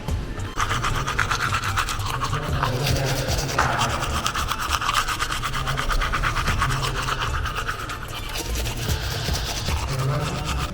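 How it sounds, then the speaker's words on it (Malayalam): A toothbrush scrubs teeth in steady, rapid back-and-forth strokes, a close, continuous rasping rub lasting several seconds with no talking. "ആദ്യം തന്നെ ബ്രഷ് ചെയ്യാൻ പോട്ടെ"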